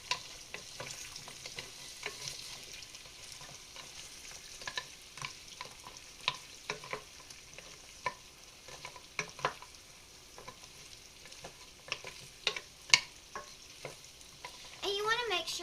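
Meatballs sizzle quietly in a pan while being flipped and stirred, with a soft continuous fry broken by repeated scraping and clinking utensil strokes at an irregular pace.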